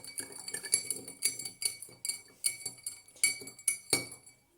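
A metal spoon stirs sugar into a glass of water, giving a quick, irregular run of bright clinks against the glass, close and fairly quiet, with no talking.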